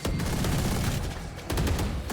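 Close-range gunfire in a Valorant match, two dense bursts of rapid shots, loud and near, separated by a short lull.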